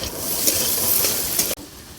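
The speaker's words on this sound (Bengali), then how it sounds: "আলু আমি ভেজে নিব আর একটু।" Cut potatoes fry with lightly browned onions in a pan for a village-style small chela fish chorchori, giving a loud, dense, close sizzle that stops abruptly after about a second and a half, leaving near quiet.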